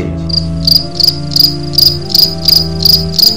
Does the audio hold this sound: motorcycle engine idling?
no